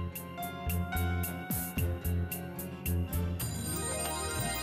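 A phone ringtone trills in repeated bursts through a Hindi TV drama household scene, loud and close, its melody sitting over a steady musical backing with no talk.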